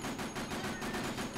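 Rapid automatic gunfire from the player's gun in Dead Rising, a dense, continuous burst of shots loud and close with no talking over it.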